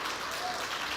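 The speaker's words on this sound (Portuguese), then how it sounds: "Dê um aplauso a Jesus, fica de pé." A church congregation applauds at a worship service, a brief, steady wash of many hands clapping together at moderate volume with no break.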